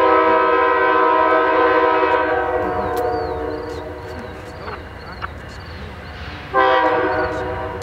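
Amtrak 91 rolls past with a loud, steady roar and wheel noise as its horn sounds the shave-and-a-haircut rhythm, with short horn blasts and a final strong burst near the end.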